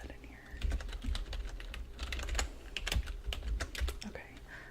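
Soft, close typing on a computer keyboard during a quiet realtor-style interview, with a steady patter of light key clicks in bursts and faint murmuring beneath.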